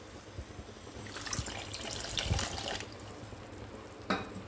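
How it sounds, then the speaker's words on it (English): Water pours into a pan of thickened palak paneer gravy with a hissing splash that swells for a couple of seconds, followed by a brief second splash. "At this point, I will add in some water for gravy."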